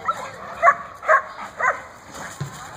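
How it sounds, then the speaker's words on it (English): A newly rescued dog gives several short barks and soft whimpers while biting at an exercise ball indoors, the yelps coming in bursts about half a second apart, fairly close and clear. "This is Capone, our new dog"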